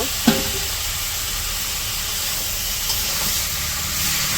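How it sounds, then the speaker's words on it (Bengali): Cumin, ginger, garlic paste and vegetables sizzle in a pan for a Bangladeshi village fish curry: a steady, close hiss and frying crackle with a faint clink near the start. "সব মশলা একসাথে কষিয়ে নেবো জিরা তারপরে তো আদা রসুন সব একসাথে আর কি বাটা হয় যে মশলা কষানো হয়ে গেছে সবজি দিয়ে দিল"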